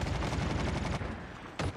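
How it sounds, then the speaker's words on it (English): Rapid gunfire from Call of Duty Mobile battle royale, a dense burst of repeated shots rattling continuously, then a short pause and another sharp volley. "they heard the gunshots"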